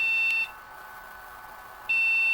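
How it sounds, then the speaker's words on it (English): Compaq Presario 3550 computer giving its POST no-memory beep: two long, loud, high electronic tones, each a second or so, split by a short quiet gap. "That's the no memory beep"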